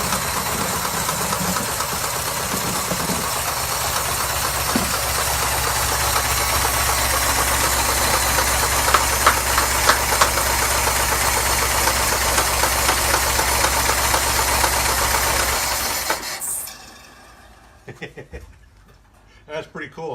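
A 1904 Ford Model B engine runs steadily with a loud, rhythmic knocking chug for about sixteen seconds before cutting out, leaving a few faint clanks and noises afterward.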